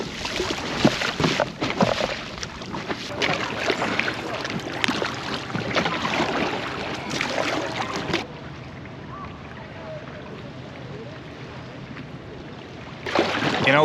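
An inflatable kayak paddled through a busy harbour, with irregular splashes and water swishes over wind noise for about eight seconds, then a quieter stretch before the splashing resumes.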